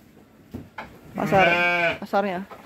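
Garut sheep on a sheep farm give a loud, drawn-out wavering bleat followed by a shorter second call, close by, with soft sounds of people around.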